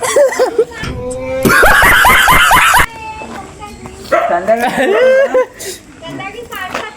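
A dog yips and whimpers amid loud, excited human voices and laughter at a lake, with chaotic close-up noise throughout.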